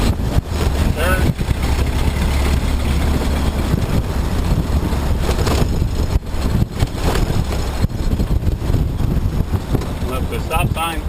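A 1928 Ford Model A drives along being double-clutched up through its gears, its engine rumbling loud and steady with wind buffeting the microphone throughout.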